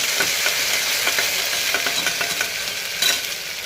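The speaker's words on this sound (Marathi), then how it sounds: "आता हे आलं लसूण कोथिंबीर आणि हिरवी मिरचीची पेस्ट आहे, ही थोडीशी परतवून घेऊया." A paste of ginger, garlic, coriander and green chili sautés in a pan over onion and cumin, giving a loud, close sizzle with repeated scraping stirs and a sharper clatter near the end.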